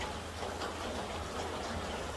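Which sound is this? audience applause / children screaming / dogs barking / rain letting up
rain letting up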